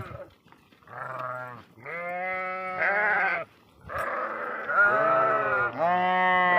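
Several sheep bleating close by in a flock, a series of long, wavering calls overlapping one after another with brief gaps between them.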